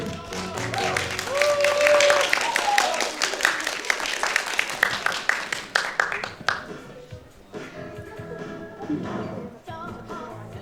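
Audience at the BiforCon 2024 cosplay event applauding a cosplayer, with loud, dense clapping that gradually thins out, and a voice speaking over it.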